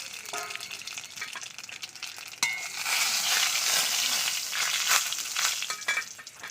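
Small batter fritters or puti fish drop into hot oil in a home kitchen, and a bubbling, crackling fry swells up after a quieter stretch, then keeps sizzling steadily and close.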